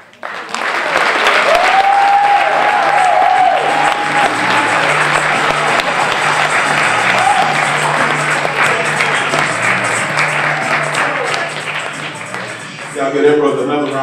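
Sustained audience applause fills a poetry reading event, loud and dense throughout, with a voice calling out over the clapping and cheering near the end.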